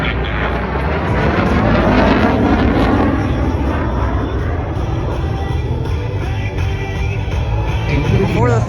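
A KC-135 jet tanker flies a demonstration at the Sun 'n Fun 2024 airshow, its loud, continuous engine roar filling the air with steady rumble and wind buffeting throughout.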